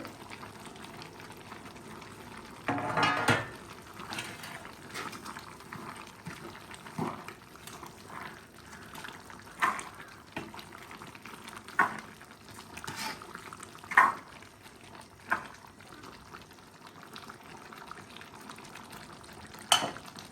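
Soft bubbling of an eggplant curry in a pot on the stove, with a steady low simmer and occasional louder clinks and stirring sounds, no voices.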